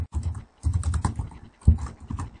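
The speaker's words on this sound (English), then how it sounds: "I'm just going to type it up here." Typing on a computer keyboard, with short close bursts of clicking keystrokes separated by brief pauses.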